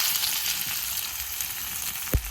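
Chopped onion dropped into hot frying oil with garam masala after eggs have been fried, giving a steady close sizzle throughout, a sharp clatter near the end, and no talking.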